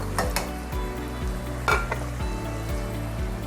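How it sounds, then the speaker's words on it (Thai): Fried sea bass is tossed in a hot pan with celery, giving a loud continuous sizzle with rhythmic scraping and clanks of a utensil against the pan, close up and without talking. "เราเอาปลาที่เราทอดนะคะ ลงไปคลุกเลยค่ะ"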